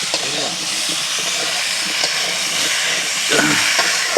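Fish and potatoes with turmeric, salt and oil cook on a traditional clay stove at home, giving off a steady, loud hiss and sizzle that runs throughout, with faint voices in the background.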